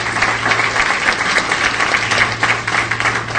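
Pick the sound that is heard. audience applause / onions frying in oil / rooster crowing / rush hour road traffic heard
audience applause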